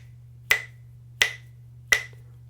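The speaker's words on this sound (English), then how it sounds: "I'm gonna simply hold time by snapping my fingers" Three sharp finger snaps keep time at an even, moderate pace. Each is crisp and close, with a low steady hum underneath.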